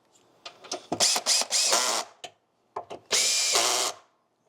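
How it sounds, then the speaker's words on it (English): A cordless drill drives and tightens bolts on a 5ML/5M0 leg set, with several short whirring bursts followed by a longer final burst, close and clear with no talking. "I'm going to put the drill on them and tighten them again,"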